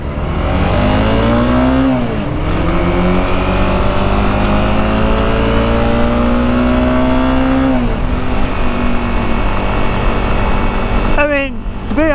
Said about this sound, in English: This thing revs up pretty quick in first gear